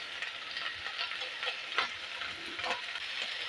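Capsicum frying in a pan gives a steady, close hiss of sizzling oil with occasional crackles and light stirring clicks throughout, fairly quiet and with no voices.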